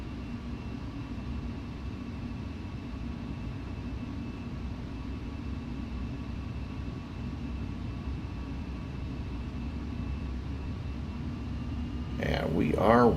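A Boeing 737-800 in Delta livery, simulated in Flight Simulator X, starts its takeoff roll on runway 19R at Tampa, a steady engine roar and rumble holding throughout, with a brief burst of sound near the end.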